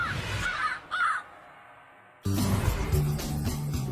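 Crows caw in loud harsh calls, a couple of short bursts early, then a quiet gap before a busier, noisier stretch of cawing and rustling resumes.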